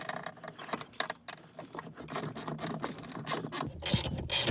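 Screws being worked loose from the air vent assembly of a 1999 Ford F150, with close ratcheting clicks and metallic rattling in quick uneven bursts.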